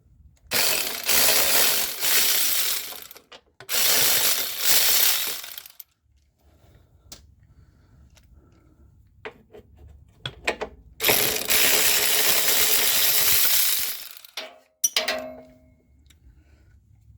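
A hand ratchet loosens the upper shock bolts on Falcon 3.3 adjustable piggyback shocks, giving several bursts of fast, loud clicking separated by pauses and small metallic clinks, with no voices.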